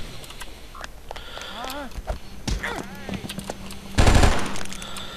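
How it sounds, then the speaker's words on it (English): Gunfire in the video game Oni: a handful of sharp shots scattered through a busy game soundscape, ending in a louder heavy blast near the end, with short tonal effects between the shots. "Huh, maybe I should have been using this gun."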